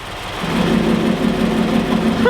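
Subaru BRZ fitted with a center exit exhaust revving, a steady droning engine note building after a quiet start and holding loud and close for about two seconds.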